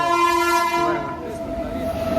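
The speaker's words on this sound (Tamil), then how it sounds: "ஒரு ட்ரெயின் ஒன்று வருது." A train passes close by with a loud, steady horn blast over the rumble of the rail cars, heard during a group bike ride near Vellore, with no talking.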